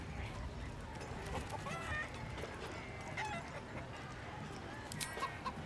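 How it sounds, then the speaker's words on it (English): Chickens cluck in the fantasy role-playing game Baldur's Gate 3 during a chicken-chasing course, a busy, steady barnyard chatter under constant background game ambience. "You just gotta chase the chicken round the course and through the posts."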